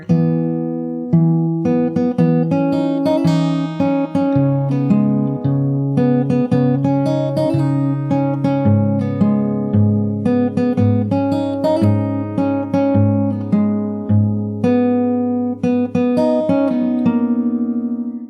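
Solo fingerstyle acoustic guitar repeats the chorus of a song, with continuous plucked melody over a bass line, played up close with no voices.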